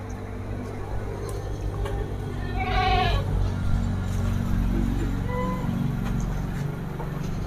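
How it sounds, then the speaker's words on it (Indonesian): Etawa goats on a livestock market in Indonesia give a single loud, wavering bleat partway through, set against a constant low crowd and engine rumble with scattered clicks. "Kambing ini sangat langka sekali, yang punya hanya negara Indonesia"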